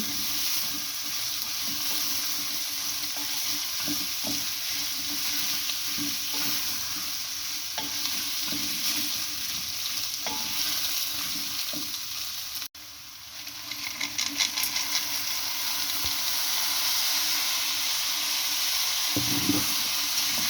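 Potatoes and carrots fry together in a pan with a steady, close sizzle, broken by occasional scrapes and stirring knocks, with a brief pause midway before the frying picks up again.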